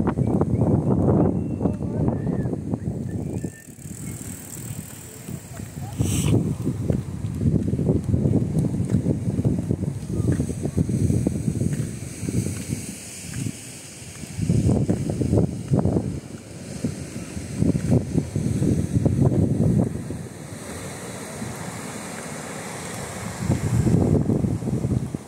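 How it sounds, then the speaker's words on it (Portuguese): Strong wind gusts buffet the microphone on a beach on the northern coast of Santa Catarina, roaring steadily for the whole stretch and swelling and easing in waves, with the surf blending in underneath. "O barulho do vento."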